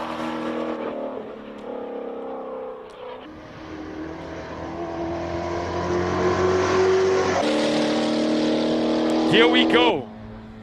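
Turbocharged four-cylinder Birkin racing up a Cape Town hill climb, engine revving hard through gear changes and climbing in pitch, loud and close before cutting off, with a brief remark spoken over it.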